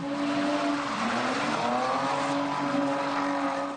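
Cars drifting in a freestyle drift show on a street in Mosul, Iraq, with engines revving hard and tires squealing in a loud, continuous roar that rises and falls in pitch.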